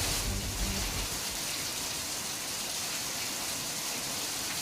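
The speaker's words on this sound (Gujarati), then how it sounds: "ડભોઈમાં શહેર અને ગ્રામ્ય પંથકમાં ધોધમાર વરસાદ જોવા મળી રહ્યો છે" Heavy rain pouring over town and village streets in Dabhoi, Gujarat, early morning, a dense, steady roar of falling water with no voices.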